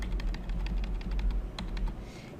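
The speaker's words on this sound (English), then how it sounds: "I'm going to just use the arrow keys." Arrow keys on a computer keyboard tapped in a quick irregular series of light clicks, close and fairly steady, with no talking.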